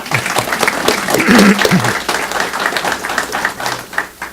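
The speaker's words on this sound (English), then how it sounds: "And let's hold our applause now" A crowd applauds at a campus tying ceremony in a burst of clapping that swells and then gradually thins out, with a voice briefly audible partway through.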